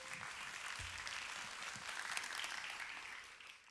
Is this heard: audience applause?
yes